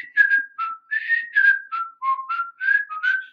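A person whistles a string of about nine short melodic notes with brief gaps, clear and close, with no talking.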